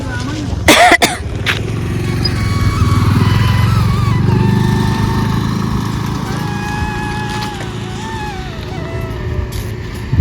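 A motorcycle engine rumbles steadily past on a street at night in Nepal, loud and close, with a cough near the start and people talking faintly over it.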